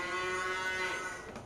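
A cow in Farming Simulator 19 gives a single drawn-out moo, tonal and steady, fairly close and clear, trailing off at the end with no talking over it.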